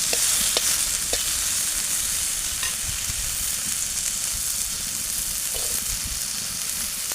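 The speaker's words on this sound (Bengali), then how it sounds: "তো আমি এখন পেঁয়াজ এবং মরিচটা দিয়ে দেবো শাপলা ভাজিতে।" Onions and chillies sizzle and fry steadily in a pan with water lily stems, a close, continuous crackle with occasional stirring scrapes and no talk.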